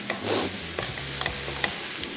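Cooked beef filling for empanadas is pan-fried and stirred, making a close, steady sizzle with repeated scraping clicks of the spoon against the pan and no talking.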